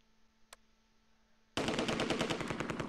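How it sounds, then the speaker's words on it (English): Rapid automatic gunfire erupts suddenly in the Close Combat II war game, a dense rattling burst of machine-gun shots aimed at a mortar team that runs on without pause after a quiet lead-in with one faint click. "Alright, they're shooting at the mortar team."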